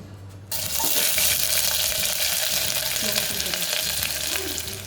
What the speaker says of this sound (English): Let's saute the onions.